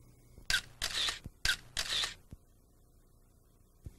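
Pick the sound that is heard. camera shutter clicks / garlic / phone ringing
camera shutter clicks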